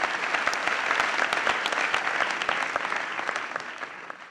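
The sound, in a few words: audience applause for the children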